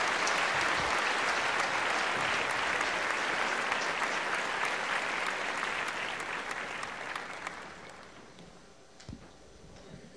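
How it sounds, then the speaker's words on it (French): Sustained applause fills a hall at a carnival music awards show in Haiti, steady and full at first before gradually thinning and tapering off toward the end. "m'a demandé tout le monde dans salle là un gros applaudissement pour monsieur Richard"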